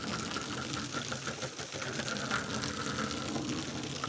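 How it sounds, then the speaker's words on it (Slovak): Water from a hose sprayed sideways straight into the groove of vertical PUR roof panels on a mobile home, a steady close broadband hiss and splatter that runs unbroken throughout. "Keďže takto frkám priamo do tej drážky."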